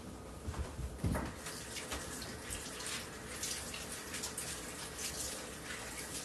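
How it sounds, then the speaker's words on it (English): Cabbage is rinsed under a running kitchen tap, a soft steady stream of water with a few splashy bursts near the start, fairly faint and with no talking. "So I'm just going to give this stuff a rinse."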